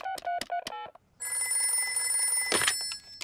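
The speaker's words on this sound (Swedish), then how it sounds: "Jag ska ringa till doktor Brunbjörn." A telephone call placed in a children's cartoon, with a short run of dialing tones followed by a sustained electronic ringing tone and a brief rustle near the end.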